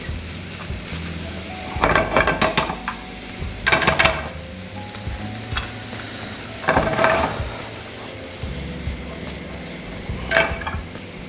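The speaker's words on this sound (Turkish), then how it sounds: "Etimiz bu şekilde hafif hafif eziyoruz ki topak olmasın" Ground meat sizzles in a pan as a utensil presses and breaks it apart, bursts of scraping and stirring every couple of seconds over a low frying hiss.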